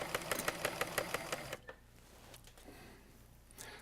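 Bernina 730 sewing machine stitching a zigzag pattern, a fast close run of rhythmic ticking clatter that stops partway through, leaving faint quiet.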